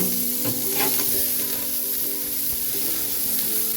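Burger patties sizzle steadily on a hot grill, a continuous loud frying hiss with a few sharper crackles early on and no talking over it.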